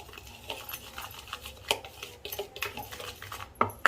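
Utensil scrapes and clinks against a pan while a spiced paneer masala curry mixture is stirred, giving irregular close metallic taps with no talking.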